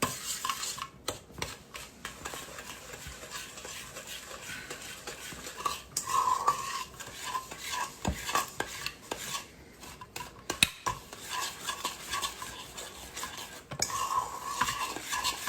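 Eggs and granulated sugar being whisked together in a bowl for a pumpkin roll batter, a steady scraping and clinking of utensil against the bowl that continues for several seconds with occasional louder knocks, no talking.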